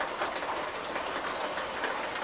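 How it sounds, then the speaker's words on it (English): Steady rain pours outdoors at night, a dense continuous patter of drops on surfaces, close and fairly loud, with no voices. "It is raining out here. Raining and thundering."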